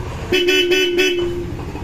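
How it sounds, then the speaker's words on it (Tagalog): Bosch Europa horn fitted to a Kymco Xciting scooter blares once, loud and close, a bright sustained tone lasting about a second over a low engine hum. "Pwede magamit yung stock horn, pwede magamit yung Bosch Europa. Lakas yung Europa, oh."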